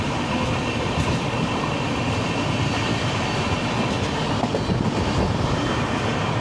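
A Vistadome train on the Bengaluru to Mangaluru line rolls steadily along the rails near the Shiradi Ghat. The rumble and wheel clatter are continuous and loud, with no talk.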